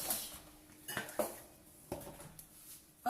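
A milk mixture is stirred in a bowl, with faint, sparse clinks and scrapes of a utensil against the dish in a quiet kitchen.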